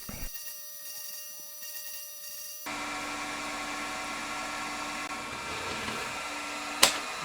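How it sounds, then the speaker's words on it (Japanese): A drill bores a pilot hole in a metal part during machining work on a Honda Monkey engine build. A quiet whine gives way to a steady, louder machine drone, and a sharp metallic click follows near the end. "やはりこれもドリルで下穴をちゃんと作っておきます。"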